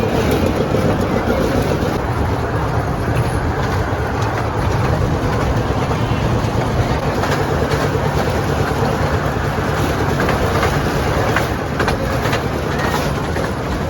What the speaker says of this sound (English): It's a very beautiful toy train.